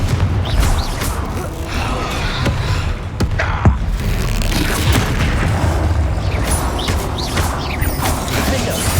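Loud, dense spell-combat effects from the video game Hogwarts Legacy, including Confringo blast explosions, with booming impacts and crackling mechanical bursts layered continuously throughout.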